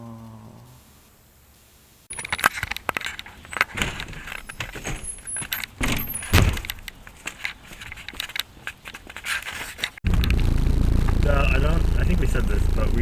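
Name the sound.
loud vibration inside a new car during a test drive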